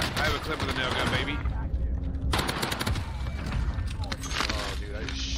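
Rapid bursts from a nail gun in Warzone Pacific on Rebirth Island, sharp repeated shots in close succession, loud amid game noise.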